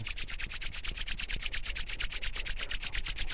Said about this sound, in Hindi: अब आप हाथों को आपस में रगड़ेंगे